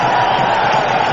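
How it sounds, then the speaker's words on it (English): A cricket crowd at Bangladesh versus Sri Lanka roars in applause, a loud, steady wash of massed noise from a full stadium lasting only a moment. "Applause from the crowd for the moment"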